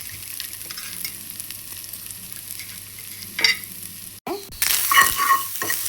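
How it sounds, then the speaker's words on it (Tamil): Grated coconut roasting in a little ghee in a kadai, a steady soft sizzle with a few scraping stirs, then a louder, brighter frying hiss toward the end. "இது தேங்காயை வறுத்துக்கணும்."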